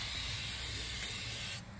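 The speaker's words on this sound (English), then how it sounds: "Each time I spray, it fills a little more of the cracks and holes." Flex Seal sprayed from an aerosol can into a hole and cracks gives a steady, close hiss for almost two seconds before cutting off abruptly.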